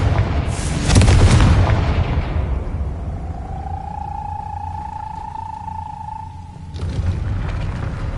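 A Confringo spell blasts a gate in Hogwarts Legacy, a loud booming burst at the start followed by a lingering rumble and a fading tonal hum before another low thump near the end.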